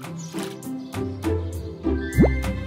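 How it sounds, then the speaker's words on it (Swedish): Cartoon sound effects of soap and water being mixed to make bubbles: soft drips, squishy plops and wet sloshes in a playful sequence, ending with a quick rising whistle-like sweep, over light background music. "Hopp Hopp blandar tvål och vatten för att göra bubblor."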